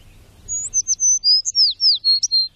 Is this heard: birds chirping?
yes